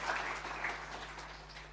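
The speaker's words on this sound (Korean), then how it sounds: "박수로 격려하겠습니다." Congregation applauding in a church service, a steady wash of clapping from many hands at moderate distance, continuous for the whole span with no voices standing out.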